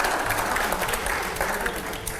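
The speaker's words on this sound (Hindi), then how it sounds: "अगले सवाल से पहले जोरदार तालियां हो।" Loud, sustained audience applause in a TV studio during a rapid-fire question round of a Hindi debate show, dense clapping from a crowd with no pauses.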